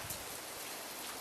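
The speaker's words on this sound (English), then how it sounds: "The first rain of the year." The first rain of the year falling in spring, a dense, even hiss of drops on surfaces, close and steady for a brief moment with no talking.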